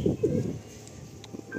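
Madrasi pigeon cooing in a loft in Kolkata, a few soft, low, throaty coos in the first half, close and moderately loud, then only quiet background with a faint brief chirp.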